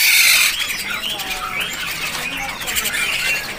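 Birds squawk and chirp repeatedly at a bird market, with a Cak Cungko among imported birds on sale, the sharp calls overlapping in a busy, noisy setting.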